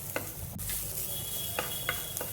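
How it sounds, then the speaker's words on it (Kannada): Coconut, turmeric powder and cloves roasting in a pan, with a soft steady sizzle and several short scraping stirs of a spoon against the metal, close and fairly quiet, with no talking. "ಚೆನ್ನಾಗಿ ಹುರಿತಾ ಇದ್ದೀನಿ."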